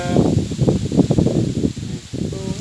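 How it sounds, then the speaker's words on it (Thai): Strong wind sweeps over open rice fields, buffeting the microphone in dense, rough gusts that rustle and roar close by, with a brief lull near the end. "ลมแรงเลย"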